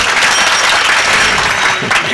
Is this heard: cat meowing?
no